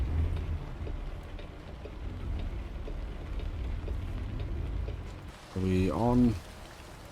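Steady rain patters down around a truck, a soft continuous wash that holds for several seconds before a voice briefly speaks near the end.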